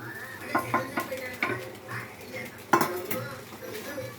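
Spring onions go into a cooking pan amid metal utensil clinks and scrapes against the cookware, with a few sharper clanks and a faint background sizzle.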